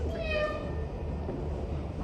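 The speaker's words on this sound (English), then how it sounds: "I swear to God there's a cat in this house." A cat meows indoors in a house, a short rising call early on, faint and partly buried under a steady background hum and murmur of low voices.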